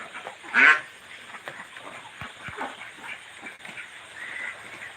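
Ducks in a rural flock, one loud nearby quack early on followed by fainter scattered calls against open outdoor background noise.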